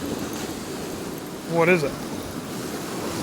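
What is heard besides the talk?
stormy sea waves crashing on the shore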